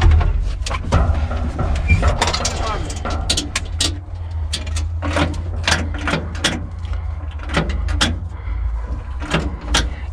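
A UTB 445 tractor used for hauling firewood, its cab door rattling and knocking in a series of sharp clatters over the low idling engine, while people talk nearby.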